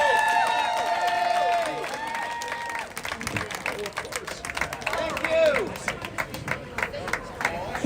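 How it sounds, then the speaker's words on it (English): A crowd at an outdoor rally claps and cheers, a dense patter of hands under whistles and scattered shouts. A voice talks over the applause, which dips briefly and then swells again. "Can I get another big round of applause for Jim?"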